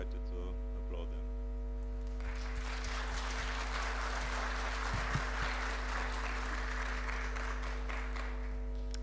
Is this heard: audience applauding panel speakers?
yes